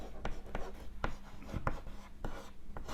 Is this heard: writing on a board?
yes